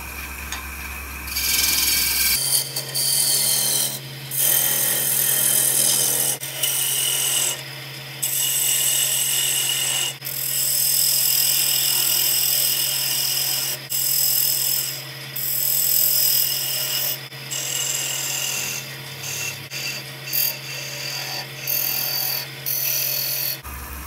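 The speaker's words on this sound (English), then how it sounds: "To part this vase off the lathe, I'm going to use my parting tool, followed up with my skew chisel to leave a nice clean cut on the bottom" A parting tool and a skew chisel cut into a butternut vase spinning on a wood lathe at about 1400 RPM. Close scraping and rasping comes in repeated bursts over the lathe's steady motor hum, with no speech.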